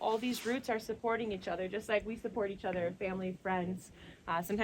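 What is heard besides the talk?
None of the usual background noises is heard.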